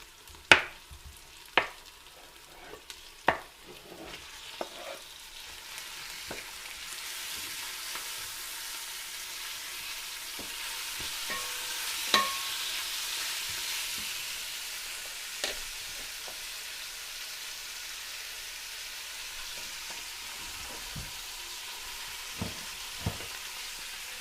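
Steady sizzling from a hot pan as meat fries, with several sharp clicks and scrapes of a utensil stirring, no voices.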